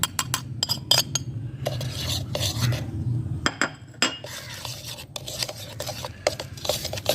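Butter or vegetable shortening and powdered sugar being mixed in a bowl for cumin biscuits, with repeated scraping and stirring strokes against the bowl, close and moderately loud, in irregular bursts with no talking.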